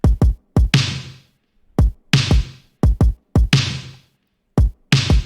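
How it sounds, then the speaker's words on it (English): An 80s synthwave-style kick and snare pattern, with punchy, boomy kicks and bright, splashy snares alternating in a steady, repeating groove, loud and dry with no voices. "Here's what the kick and snare sounds like."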